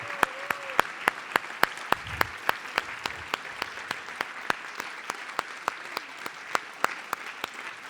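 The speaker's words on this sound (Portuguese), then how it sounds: "Peço também uma salva de palmas para a Teresa e para o Simão e para toda a equipa" Scattered applause at a Christmas science conference in Portugal, with sharp individual claps spaced out in a steady rhythm against a soft crowd murmur, moderately loud throughout.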